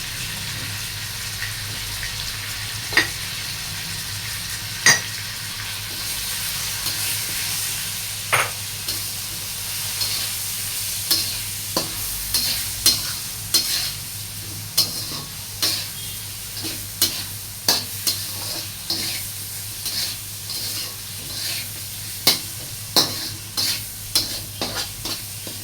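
Fish frying in a pan with chili powder and turmeric, a constant hiss of oil broken by repeated sharp scrapes and knocks of a spatula stirring, growing busier toward the end, with no talking.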